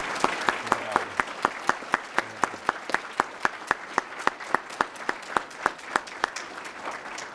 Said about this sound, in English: giving one more big round of applause for all of our high school winners